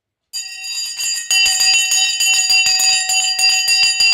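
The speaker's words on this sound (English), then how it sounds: "Bell's going to go. Here's the bell." A stock market opening bell rings loudly and steadily, a bright sustained metallic clang repeating rapidly after a brief silence, with no voices.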